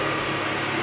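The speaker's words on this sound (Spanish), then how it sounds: "la aspiradora que pasa" A household vacuum cleaner runs with a loud, steady, even whooshing drone that stays constant through a brief moment, with no voices.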